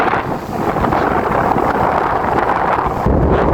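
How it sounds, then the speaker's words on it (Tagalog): Strong wind buffets the microphone outdoors in a continuous loud, rumbling roar with gusty surges and no clear voices. "ang hangin dito"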